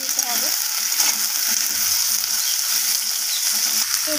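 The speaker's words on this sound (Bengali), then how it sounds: "বেগুনটাকে দেওয়ার পর আলু পেঁপের সাথে নাড়াচাড়া করে" Potato, papaya and eggplant are stirred in a hot pan, giving a steady close sizzle with light scraping and clinking from the spatula throughout.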